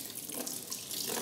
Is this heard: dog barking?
no